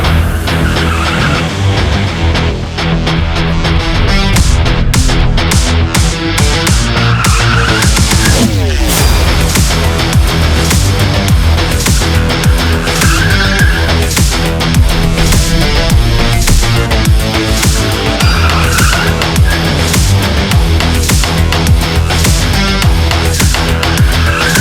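A BMW M340i drifts with squealing tyres and a roaring engine, continuous and loud throughout, mixed with dense background music.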